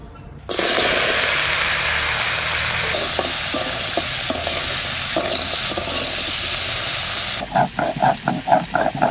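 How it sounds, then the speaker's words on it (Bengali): Crabs hit hot mustard oil in a wok with a sudden loud, steady sizzle that hisses on continuously, then breaks into rhythmic scraping stirs near the end. "কড়াইটা গরম হয়ে গেছে, সরষের তেল দিয়ে দেবো কাঁকড়া ভাজার জন্য।"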